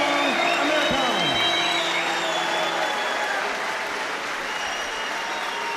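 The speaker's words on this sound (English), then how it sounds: "tremendous round of applause for both two of the world's finest amateur boxers, Mario Kindelan, Amir Khan" Sustained applause from a boxing arena crowd for amateur boxers Mario Kindelan and Amir Khan after their bout's decision, a loud dense wash that fades slightly toward the end while an announcer's voice speaks over the start.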